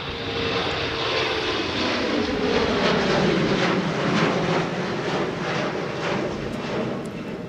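A fixed-wing airplane passes over Minneapolis–St. Paul Airport, its engine roar loud and steady throughout, swelling slightly near the middle with no voices over it.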